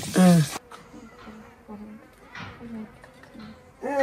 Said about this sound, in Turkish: Arı.